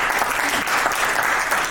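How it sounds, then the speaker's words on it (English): Steady applause from an audience welcoming the panelists at a proof-of-work versus proof-of-stake blockchain debate, dense and continuous clapping heard close and loud throughout. "first let's give them a round of applause."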